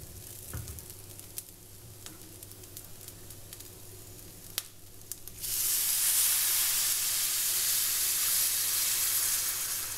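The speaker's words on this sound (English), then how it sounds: "Okay, so I've been frying my rice grains for a while. So now I'm going to add the water." Water poured into a pot of rice grains that have been frying for jeera rice, setting off a sudden loud, sustained sizzle and hiss halfway through, after a quieter stretch of faint crackling.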